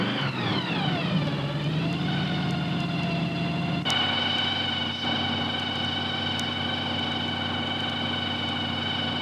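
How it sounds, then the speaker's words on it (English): A supercharged car engine idles loudly at a 1992 car show, its steady high blower whine riding over a rumbling exhaust, the pitch settling after an early drop, close and continuous. "The blower whines and the exhaust is fairly loud"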